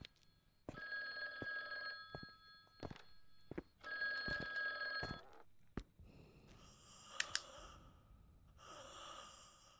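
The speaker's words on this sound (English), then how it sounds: "You must answer the phone first." A telephone in the horror game The Guest rings in two long bursts of bright, sustained electronic chime, followed by quieter room noise and a few sharp clicks.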